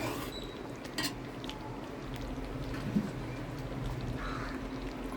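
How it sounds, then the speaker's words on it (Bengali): A spoon clinking and scraping in a cooking pot as chicken is stirred with garam masala, a few sharp metallic taps over a steady bubbling hiss, with faint bird caws in the background. "এইভাবে ভালো করে গরম মশলাটাকে মিশিয়ে দিই"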